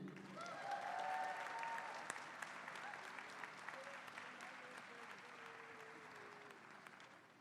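Sustained applause from a large audience honoring graduates at a university commencement, a dense, even wash of clapping that fades slightly over the seconds, with a few voices faintly mixed in.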